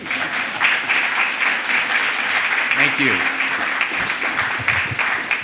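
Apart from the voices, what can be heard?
applause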